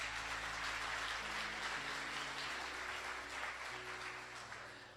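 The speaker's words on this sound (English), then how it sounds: "Give him a round of applause." Audience applause fills a room at a forum event, a dense, sustained clapping that holds steady and then slowly fades toward the end.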